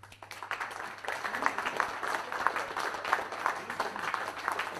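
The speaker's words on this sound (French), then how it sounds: "donc on les applaudit" An audience at an overclocking competition held in a computer store's premises gives a round of applause for the sponsors, a steady mid-level patter of many hands lasting several seconds, with a faint constant hum beneath.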